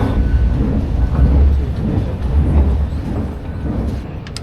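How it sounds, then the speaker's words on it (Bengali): A Guangzhou metro train pulls away from the station with a steady low rumble and faint clatter of wheels on track. The sound is close and continuous, with no talking. "মেট্রো এখন চলে যাবে তার গন্তব্যের উদ্দেশ্যে"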